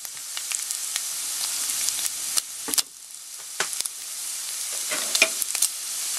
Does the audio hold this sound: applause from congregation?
no